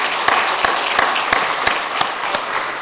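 A church congregation applauds its choir with sustained, loud clapping throughout, a few sharper individual claps standing out at regular intervals.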